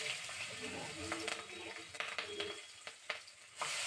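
Nigella seeds and green chillies sizzle and crackle in hot oil, a steady bright hiss broken by a few sharp pops and stirring scrapes.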